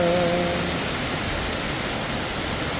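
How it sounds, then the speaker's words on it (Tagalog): Steady, dense roar of heavy rain pouring down, broadband and unbroken throughout, with no voices. "Lalong lumalakas ang ulan."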